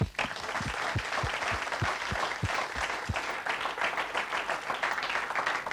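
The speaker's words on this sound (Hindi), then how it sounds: "तालियां हो जाए।" Studio audience applause on a television talk show, steady clapping from a modest crowd with a few sharp low thumps in the first seconds, moderately loud and without speech over it.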